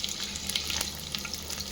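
Spices such as pepper and cumin frying in hot ghee and oil for millet pongal, a steady close crackling sizzle with small pops and stirring sounds throughout, no talking.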